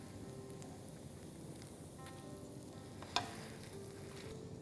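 Masala sizzles and fries in a pan as it is stirred, a faint steady crackle with one sharp scrape of the spoon partway through, and no talking.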